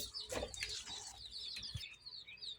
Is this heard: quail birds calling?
yes